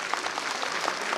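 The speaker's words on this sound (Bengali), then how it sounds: "সবাই একটু জোরে হাততালি দেবেন" An audience at a school annual program claps to welcome a guest on stage. The applause is dense and steady throughout this short moment.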